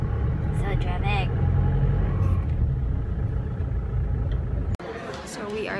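City traffic on B. Rodriguez street in the early afternoon, with a dense low rumble of cars and buses moving close by, and people talking over the steady road noise.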